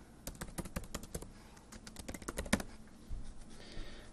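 Typing on a computer keyboard, a quick run of light key clicks with brief pauses, close and fairly quiet, no voices.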